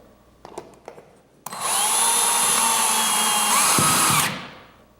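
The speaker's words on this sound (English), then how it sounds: "So I'll start by putting this in the top, and then I'll just screw this in." Power drill driving 2-inch lag bolts through a garage door opener header bracket, starting after a few light handling knocks with a loud, steady whir of about three seconds that winds down at the end.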